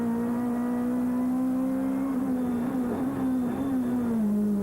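Onboard a 1994 Snowbeck-prepared Opel Vectra supertouring car with a sequential gearbox on a qualifying lap at Ledenon, the engine drones loud and steady, its pitch wavering slightly through throttle changes.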